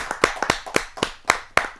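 A few people clap at a Hindi poetry gathering (kavi sammelan), giving about eight crisp, close, slightly uneven claps in quick succession.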